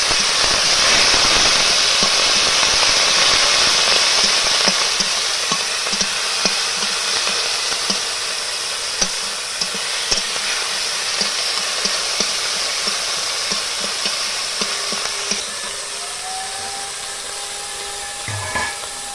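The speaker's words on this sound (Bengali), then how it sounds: "এবারে কাঠকলটা ভালো করে ভাজা ভাজা করবো।" Ghetkol fried with salt and turmeric in a pan gives a loud, steady sizzle with scattered crackles and pops, close up and with no talking.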